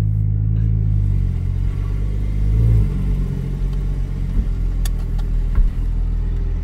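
Porsche Cayman GTS engine idling with a deep, steady rumble inside a garage, swelling briefly as the throttle is blipped, loud and close with a resonant low drone throughout.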